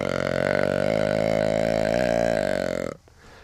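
A deer call imitating a buck's breeding grunt, one long, drawn-out, raspy tone held steadily for about three seconds before cutting off, close and alone.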